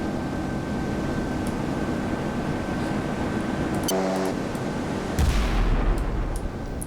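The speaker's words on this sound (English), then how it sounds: "4 turrets have fired" Battleship main turrets firing in the naval video game Sea Power, a heavy low boom that breaks out late over a steady rumbling sea and engine backdrop, with a fainter report just before it.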